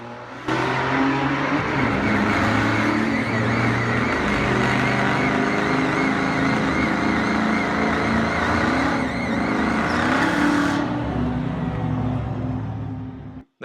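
A supercharged 2001 Ford Mustang Bullitt makes a drag racing run, its engine roaring loud and steady at high revs for about ten seconds before cutting off abruptly, with no talking.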